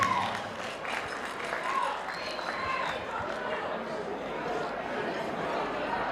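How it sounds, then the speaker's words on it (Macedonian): An audience at a Crnobuki society anniversary ball in Melbourne applauds, a dense, steady wash of clapping from a crowd with some chatter mixed in, sustained throughout at moderate volume. "Еден аплауз ве молам"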